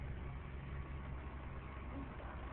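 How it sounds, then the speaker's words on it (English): Custom-built stunt show vehicle engines on a studio backlot produce a steady, muffled low rumble, a continuous idling drone heard at moderate distance with no talking. "the custom-built stunt show vehicles rev their engines up to 70 miles per hour"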